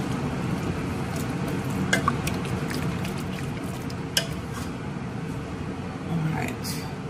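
Soup simmering and sizzling in a pot on the stove, with a steady bubbling hiss, occasional clinks and scrapes of a utensil, and soft cooking noise throughout.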